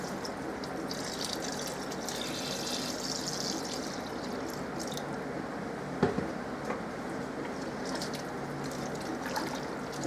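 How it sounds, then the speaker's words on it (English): Water pours steadily into a soup pot in a home kitchen, a continuous splashing stream for several seconds with a brief clunk midway, no talking. "I'm going to put my water in here."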